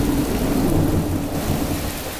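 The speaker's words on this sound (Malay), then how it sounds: "hujan. Kilat." Heavy tropical downpour with thunder, a dense steady roar of rain hitting surfaces and a low rumble rolling underneath, loud and close with no voices.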